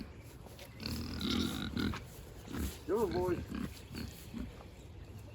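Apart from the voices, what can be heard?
pigs grunting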